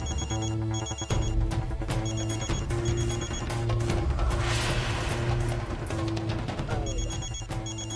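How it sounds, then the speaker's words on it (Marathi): An electronic telephone rings in an inner room of a house, its repeated trilling bursts in a steady rhythm over a continuous background music bed. "आतल्या खोलीतला फोन वाजतोय"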